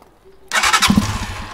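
An Italika motorcycle engine cranks and catches after a short silence, then settles into a rough, throbbing idle close by.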